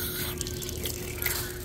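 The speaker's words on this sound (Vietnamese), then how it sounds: "Có cái vòi nước là mình sẽ rửa mấy trái này." Tap water runs steadily onto plums being washed under a faucet, a continuous close hiss with faint drips and no talk.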